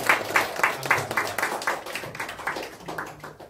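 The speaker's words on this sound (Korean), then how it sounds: "한번 박수 쳐주시기 바랍니다." An audience claps for a couple at a church talk on marriage, a spread of fairly close hand claps that fades toward the end, with no speech over it.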